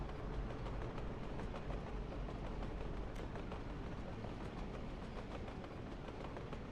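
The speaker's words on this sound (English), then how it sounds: "Follow the train for a minute." A train runs in the Soviet Republic city-building game Workers and Resources, a steady rumbling rail sound with faint clacking that holds at an even level throughout, no voices over it.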